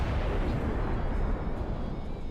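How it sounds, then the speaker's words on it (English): A heavy, rumbling snow explosion from a huge anti-air BFG cannon in a Halo 3 mod sounds as a dense, sustained roar of debris with no sharp attack, loud and alone. "as you can see, it does a really nice snow explosion"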